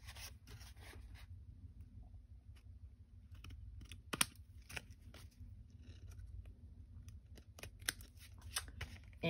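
Scissors snipping out card pieces for an Easter scene card, a series of quiet, close cuts and clicks in irregular bursts, with no talking.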